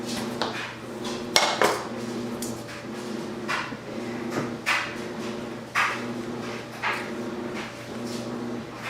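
Dishes and cutlery clink in a home kitchen as a knife is fetched while making ham and bean soup with butter in an Instant Pot, with several short scattered clatters and knocks over a low steady hum.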